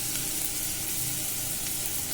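Asafoetida sautéing in hot oil for tomato rasam makes a dense, even hiss and sizzle up close, unbroken for the whole moment, with no voices.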